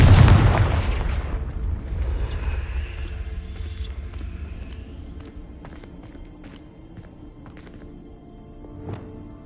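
A Confringo fire-spell explosion in the Hogwarts Legacy video game: one loud, close blast at the start that rolls off into a long rumbling decay, with a few fainter thuds and crackles trailing after.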